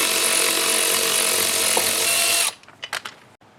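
A power tool fitted with a 1/2 inch deep socket whirs steadily and loudly up close while removing a bolt from a third-generation Camaro/Firebird hood hinge, then stops, followed by a few metallic clinks.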